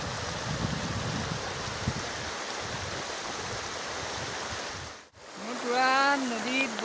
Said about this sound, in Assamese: শব্দ নুশুনি, খালি পানীহে শব্দ।